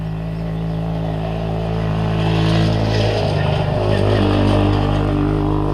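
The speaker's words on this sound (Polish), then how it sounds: "Właśnie, ktoś na motorze." A motorcycle passes by outdoors, its engine drone rising and growling louder midway as it goes past, then fading, heard continuously without speech over it.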